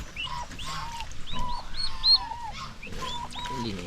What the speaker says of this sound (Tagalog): cute yung mga maliliit na sisiyo ng pabo